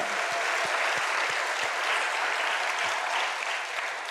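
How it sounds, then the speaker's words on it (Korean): A church congregation at a Korean Full Gospel service claps together in a steady, fairly distant wash of applause that lasts about four seconds, with a few louder thumps within it. "오늘 이 말씀을 우리에게 이 복된 말씀을 주시는 하나님께 영광의 박수 한번 부탁합니다"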